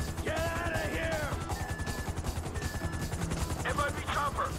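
A helicopter during the Bureau Raid heist in GTA 5 thumps with a steady low rotor pulse, mixed with bursts of gunfire, tonal effects and voices.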